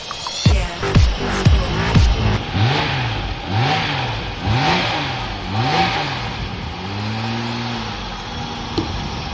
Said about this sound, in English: I haven't heard it run like this on the button.